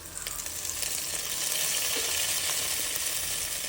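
Mint leaves sizzle and fry loudly in hot oil with garlic paste for vegetable dum biryani, a steady close crackling hiss with faint stirring scrapes.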